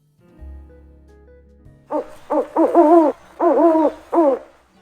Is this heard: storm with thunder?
no